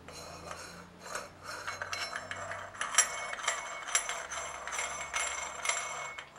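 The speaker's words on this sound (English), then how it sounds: "grab hold of the end cap, which is the nickel-plated brass casting that you see being unscrewed" A nickel-plated brass end cap being unscrewed by hand from a large-diaphragm microphone body, with faint metallic clinks, small ticks and rasping scrapes coming in short irregular bursts close up.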